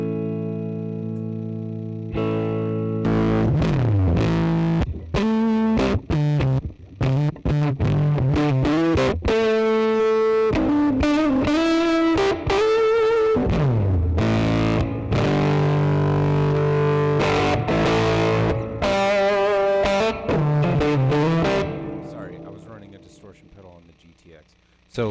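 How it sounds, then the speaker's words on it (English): Distorted electric guitar played through a distortion pedal on a Line 6 Pod Go modeling unit, loud and continuous with chords and single notes in a choppy rhythm, ringing out and fading at the end. "that is because you're running a distortion pedal on the Podgo"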